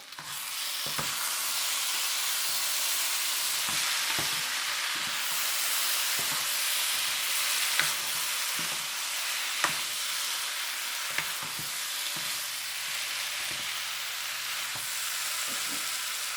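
Cumin powder and spices fry in a pan for pork curry, giving a constant, dense, hissing sizzle. Occasional soft clicks of stirring break through it, close, with no voices.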